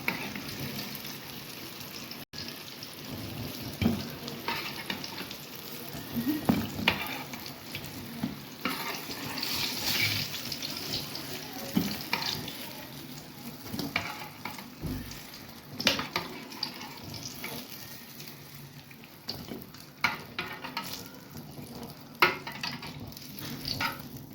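Eggplant slices frying in hot oil in a pan over a high flame, a steady crackling sizzle with occasional stirring clinks, close and moderately loud.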